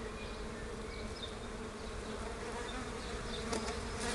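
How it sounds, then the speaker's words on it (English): A swarm of bees buzzing around a hive, a steady dense hum with faint darting whines of individual insects passing nearby, continuous and moderately quiet. "it looks like the bees are going to swarm"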